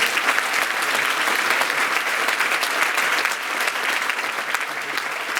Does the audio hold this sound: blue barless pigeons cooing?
no